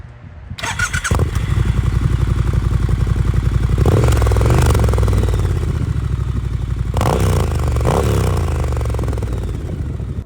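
A Triumph Scrambler 1200 XE motorcycle engine idles close by, a steady, loud, throbbing rumble with a rhythmic pulse and a couple of brief blips of revs, with no talking over it.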